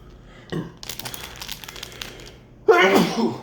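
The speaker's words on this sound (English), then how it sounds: "I'm already sneezing off that powder" Crinkling and rustling of a ghost pepper seasoning packet from instant noodles, then a single loud, close sneeze near the end.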